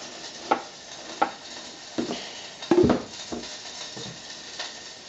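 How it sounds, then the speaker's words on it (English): Hamburger meat frying in a pan gives a soft ongoing sizzle, broken by several sharp sputtering pops and a clatter of a spoon stirring against the pan, all close and with no talking. "Hopefully you got to see the sputtering hamburger"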